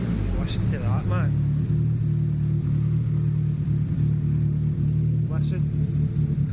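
The engine of a rare Nissan Pulsar GTiR under restoration runs at a steady, close idle with a low rumble throughout. Brief voices are heard over the engine.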